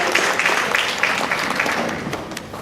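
Banquet audience at a middle school honors night applauding, a continuous crowd of clapping hands that starts full and gradually thins and softens toward the end.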